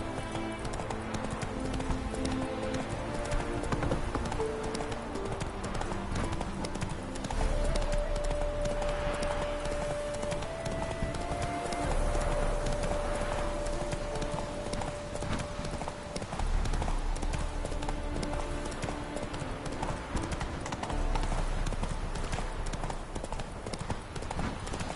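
Steady clip-clop of a ridden horse's hooves in The Witcher 3, a continuous even gait close by at moderate level over a low ambient game background, with no talk.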